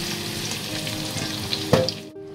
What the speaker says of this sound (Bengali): এই আলুগুলো লালচে করে ভেজে নেব